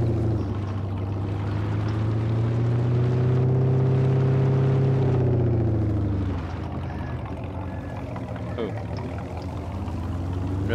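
A Lada Niva in Farming Simulator 22 drives across a harvested field, its steady engine drone rising and falling in pitch as it accelerates and eases off, loud and continuous throughout.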